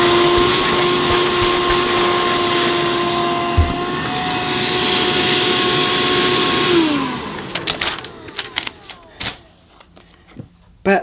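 A Shop-Vac Micro cordless wet and dry vacuum cleaner runs with a steady whining motor hum and airy hiss for about seven seconds, then winds down, leaving scattered handling knocks and clicks.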